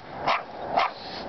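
A dog barks twice in an alley, two sharp, fairly close barks about half a second apart over a quiet background.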